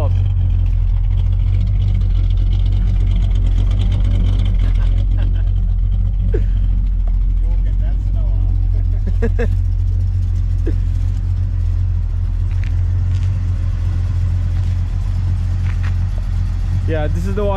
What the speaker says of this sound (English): It's a 327 small block Chevy.